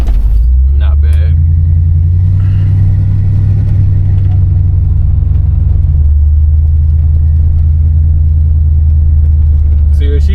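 A 1973 Chevrolet Caprice convertible with an LS engine and big wheels drives over a big dip, a steady low engine rumble with a thump early on, as a voice talks over it.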